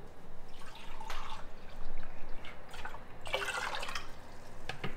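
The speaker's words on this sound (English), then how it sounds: "And then I am going to add 3 cups of just regular vinegar." Regular vinegar poured into a pot already holding water for dill pickle brine, a splashing, dripping liquid pour with a stronger burst near the end, close and moderately loud with no talk.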